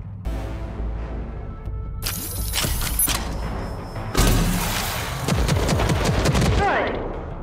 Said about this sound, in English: Can lock onto a target and fire multiple small homing rockets.